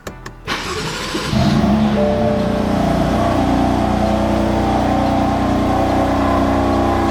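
A stock BMW F80 M3 engine cranks and fires up, then settles into a loud, steady, rumbling idle, close by and without talking.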